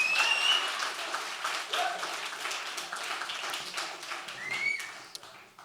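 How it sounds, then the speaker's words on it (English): Live audience applause at a local evening talk event, a steady crackle of many hands clapping that stays fairly loud across the span before tapering off at the end, with a few faint voices mixed in. "can we just give a massive round of applause to Bernard and Emma for their great talks tonight"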